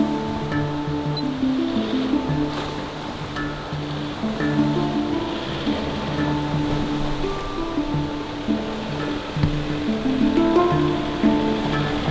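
A small river runs in a mountain setting as a 4x4 fords it, giving a steady full rush of flowing water that continues evenly throughout with no voices.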